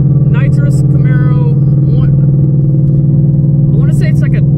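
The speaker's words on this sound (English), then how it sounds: "Sorry for the loud car." A loud car engine idles at a drag racing event with a deep, steady droning rumble, close and constant throughout, while people talk over it.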